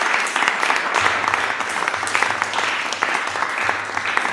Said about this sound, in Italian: L'applauso per le bambine.